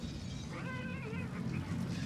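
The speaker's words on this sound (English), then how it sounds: "that cat was fired up" Cat yowling in the animated war film Grave of the Fireflies, a wavering, drawn-out cry of about a second amid a low background rumble.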